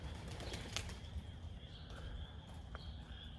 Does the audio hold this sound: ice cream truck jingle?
no